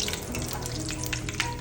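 Mustard seeds and asafoetida sputtering in hot oil for a tempering, a steady dense crackle and sizzle up close with no voices over it.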